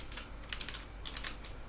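Quick bursts of typing on a computer keyboard while writing an email, light clicking keystrokes in two short clusters, close and soft against a quiet background hum.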